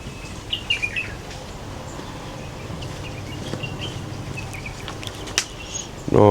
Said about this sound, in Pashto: داسې د مرغان اوازونه دونه ښایسته فضا